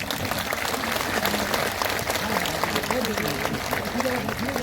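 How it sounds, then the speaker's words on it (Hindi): An audience at the Latiya Mahotsav festival breaks into loud, sustained applause, a dense wash of clapping that runs throughout the clip, with voices faintly mixed in beneath it. "एक बार जोरदार ताली बजा दीजिए"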